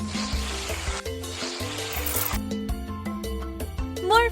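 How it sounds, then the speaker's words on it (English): Whipped cream sprayed from a can in a mobile cooking game, a hissing spray burst lasting a couple of seconds over light game music, followed by chimes and cartoon effects. "Spray some whipped cream."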